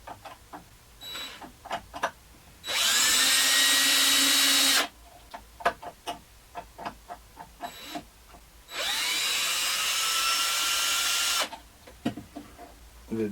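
A power drill bores pocket holes in wood held in a Katsu pocket hole jig, two loud sustained whirring bursts of a couple of seconds each, separated and framed by clicks and clatter of handling and clamping.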